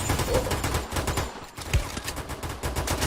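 Rapid automatic gunfire in the video game Free Fire, a dense stream of quick shots with a brief lull midway before firing resumes, loud and continuous.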